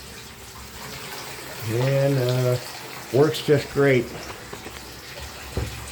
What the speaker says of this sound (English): Okay, I'm going to turn the water on.